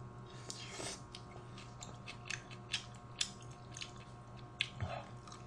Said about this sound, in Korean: 콩나물은 아삭해요.